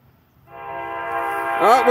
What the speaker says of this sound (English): Oh, we got another westbound! Nice horn!